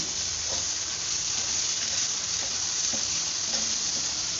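A masala of onion, tomato and a little cut coconut sautés in a pan with a continuous moderate sizzle, light stirring scrapes recurring every second or so, and no voices.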